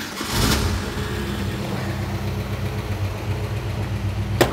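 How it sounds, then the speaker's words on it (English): A 1965 Ford Mustang 2+2 Fastback engine cranking and catching, then settling into a low, steady, rumbling idle nearby, with a short sharp noise at the end. "let's start this car up and let's go for a test drive."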